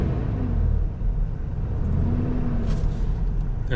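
A troubled vehicle engine, blowing smoke out in the high desert, rumbles low and steady throughout, a continuous near drone with slight swells and no voices.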